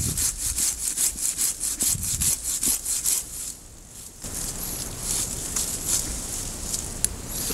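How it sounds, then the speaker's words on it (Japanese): A hand saw cuts through a plum tree branch during summer pruning, with fast, regular rasping strokes, pausing briefly before a steadier, rougher stretch of sawing, close and clear without talk. "やはり思い切って元から切りましょう。 慎重に2段階で落とします。"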